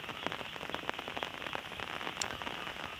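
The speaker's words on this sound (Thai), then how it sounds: "มื้อนี้ฝนตกพี่น้อง จาก40-50 วันบ่ได้ตกหากำลังมาตกแห้งจุดนี้เนาะพี่น้อง" Rain falls after a long dry spell of forty to fifty days, a faint, steady patter and crackle of drops on surfaces with no one speaking.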